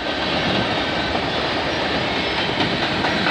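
A CN freight train rolls slowly out of a rail yard, a steady dense rumble with faint wheel clicks and squeals, loud and close, with no voices.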